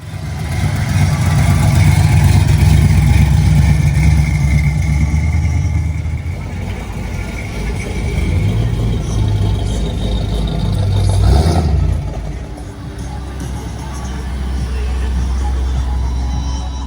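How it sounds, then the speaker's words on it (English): Cars passing at a street rod show, with heavy engine rumble and revving swelling and fading as vehicles drive by close, and a steady idle or rumble continuing underneath. "those cars that just went by, they drowned out the sound of the music"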